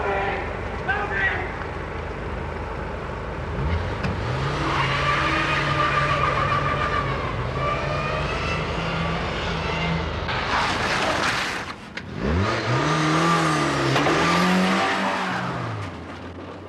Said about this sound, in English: He drove the blue Cortina the wrong way down Westfield Street